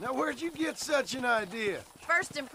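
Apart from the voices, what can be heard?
No everyday noise stands out behind the speech.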